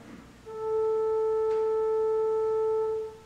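A single sustained note from a flute stop on the pipe organ at St. Michael's Episcopal Church, Grosse Pointe Woods, a pure, steady, mellow tone that holds for about two and a half seconds and then stops cleanly.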